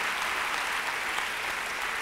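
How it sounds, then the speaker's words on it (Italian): A comedy theatre audience applauds spontaneously, a dense steady wash of clapping hands that holds evenly throughout at a moderate level with no voices standing out. "Quindi è lì l'applauso del pubblico che viene spontaneo"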